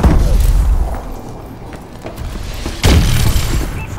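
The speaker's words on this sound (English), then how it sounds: "Friendly missile strikes inbound." Missile strike explosions in Call of Duty on Xbox One, a grapple moshpit match: a low rumbling boom runs through the start, and a second sharp, loud blast hits near the end over continuous battle noise.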